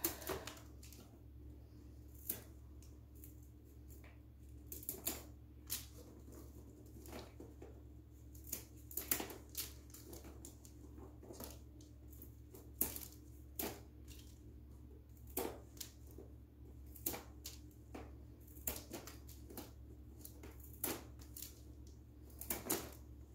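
Wholesale rose stems are cut one after another, making quiet, sharp snips at irregular intervals over a steady low hum. No voices.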